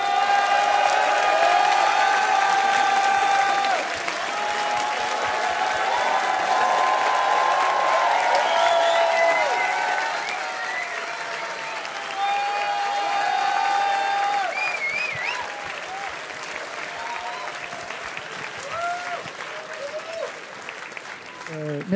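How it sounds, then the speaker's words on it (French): An audience applauds at a live debate show, a dense steady wash of clapping that holds for the whole stretch with a few whoops, then slowly thins, while a host speaks over it. "Faites des applaudissements"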